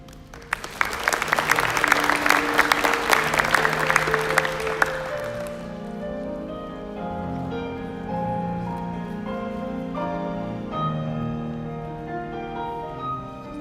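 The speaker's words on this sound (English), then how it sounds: "would everyone please stand and give our seniors a round of applause" An audience applauds high school seniors at a class of 2021 senior recognition ceremony, with a burst of dense clapping that fades after several seconds as sustained music continues underneath.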